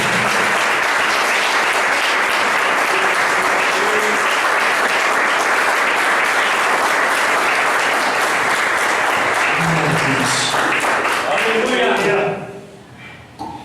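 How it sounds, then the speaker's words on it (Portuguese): A church congregation bursts into loud, sustained applause that fills the hall for about twelve seconds before quickly dying away, with voices mixed into the clapping. "Você pode dar uma salva de palmas para ele"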